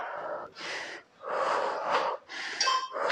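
Heavy, forceful breaths during an intense HIIT cardio workout, four or five loud, close, rhythmic exhalations and gasps with short gaps between them, no talking.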